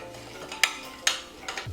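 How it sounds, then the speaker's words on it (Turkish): A spoon stirs a mixture of melted butter, cinnamon and nutmeg in a bowl, with a few distinct clinks against the side over soft, continuous scraping, close and moderately quiet. "Tereyağı da ekliyorum. Ve bunu bir güzel karıştırıyorum."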